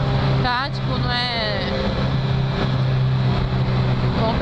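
Yamaha XJ6 motorcycle with a custom-made exhaust, riding down a mountain road, its engine holding a steady loud drone throughout with wind roar and a rider's voice over it.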